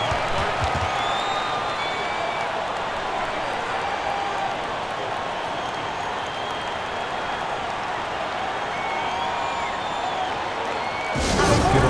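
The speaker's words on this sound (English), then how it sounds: "big round of applause for your dance team." A video game arena crowd in an NBA 2K26 basketball broadcast keeps up a steady cheering roar with scattered whoops and whistles, then swells into a louder burst of applause right at the end.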